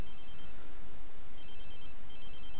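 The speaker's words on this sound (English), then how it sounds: "I need to turn the phone off." An in-game telephone rings in The Sims 3, sounding two bursts of trilling electronic bell tones separated by a pause, steady and clear over a low background hum.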